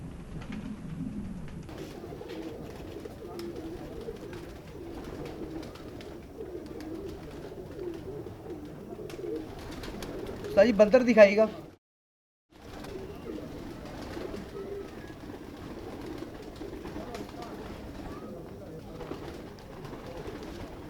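Soft coos of blue pigeons and other bird calls under someone speaking, with a burst of fluttering or handling noise followed by a brief silence.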